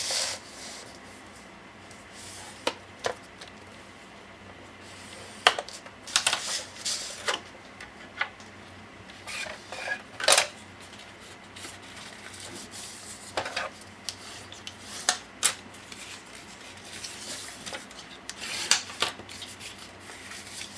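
Paper card stock measuring 6 1/4 by 6 1/4 inches is scored 1 inch in on all four sides for an explosion box, giving scattered light scraping strokes and small taps that come close and sporadically, with no talking.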